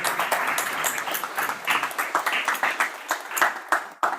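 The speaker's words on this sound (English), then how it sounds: "Huge round of applause, please." Audience at a university induction program clapping in a dense, lively burst of applause, close and fairly loud, tapering briefly near the end.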